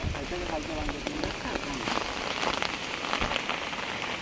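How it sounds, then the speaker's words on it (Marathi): Steady rain pattering on surfaces, a dense, even hiss throughout, with a faint voice briefly audible early on. "मित्रांनो पाऊस आला थोडासा झाला"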